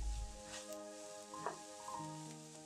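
Stuffing ingredients for baked stuffed fish sizzle steadily as they sauté in a hot pan, a soft continuous crackle with a low hum running underneath and no talking.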